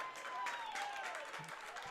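Home crowd at a high school football game, a Section 6 Class C final between Southwestern and Medina, cheering and clapping from a distance in a short, fairly faint burst.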